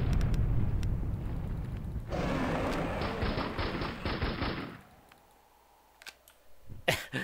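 A gun in Minecraft lets off a dense, harsh burst of automatic fire lasting about three seconds over a noisy background, then things go quieter and a few sharp clicks follow.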